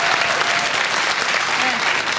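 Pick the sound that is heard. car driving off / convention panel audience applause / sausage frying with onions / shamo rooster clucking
convention panel audience applause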